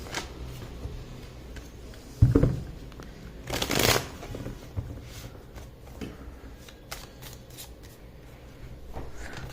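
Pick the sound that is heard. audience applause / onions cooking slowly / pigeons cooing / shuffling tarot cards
shuffling tarot cards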